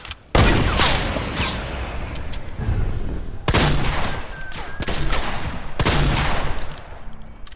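Heavy, continuous gunfire in the video game Playgrounds, loud overlapping bursts with several sharp loud onsets, forming a dense fusillade throughout.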